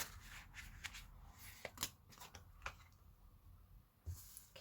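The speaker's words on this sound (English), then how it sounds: "Let me just shuffle one more time" Tarot cards are shuffled close by in quick riffling bursts, soft clicks and snaps in an otherwise quiet room.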